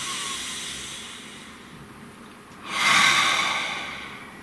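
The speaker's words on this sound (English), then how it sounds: "Nice deep breath." A single deep breath, heard as a soft airy inhale followed by a louder, hissing exhale near the end, close and quiet with no talk.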